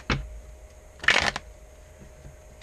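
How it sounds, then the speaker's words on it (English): A deck of tarot cards is shuffled indoors: a soft tap, then one quick, close riffle burst lasting a fraction of a second, followed by quiet. "Hey, that was a horrible shuffle."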